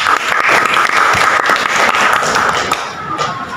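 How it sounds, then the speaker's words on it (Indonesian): A classroom of high school students claps for a classmate, giving loud, dense, steady applause close by that tapers slightly toward the end. "Berikan aplaus buat Ima."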